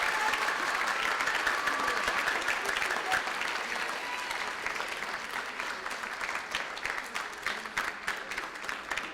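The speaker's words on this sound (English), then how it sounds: "If we can give them a round of applause." Sustained audience applause for choir students at a school choral department concert, a dense, even wash of clapping that stays loud throughout, with a few voices faintly beneath it.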